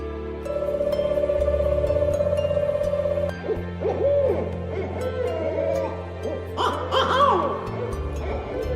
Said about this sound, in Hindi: रंग रूप और आकार में विशालकाय ये उल्लू गिरिडीह के ग्रामीणों के बीच कौतूहल की वस्तु जरूर बना हुआ है